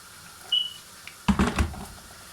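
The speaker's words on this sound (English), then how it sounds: "just add a wee bit of water" A short burst of water pouring into a glass, brief splashy gurgle after a faint click, in an otherwise quiet room.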